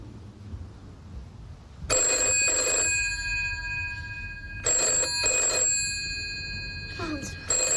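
A telephone rings in repeated double trills, each pair of bright electronic rings separated by a pause, with a muffled voice faintly heard in the background between them.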